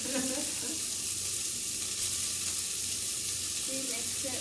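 Lean ground beef frying in a pan and being stirred, a loud continuous sizzle with soft scraping underneath and no clear talking.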